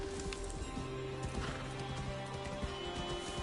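A horse in Assassin's Creed Valhalla whinnies amid clip-clopping hooves, the neigh rising briefly over a busy bed of game music and ambience.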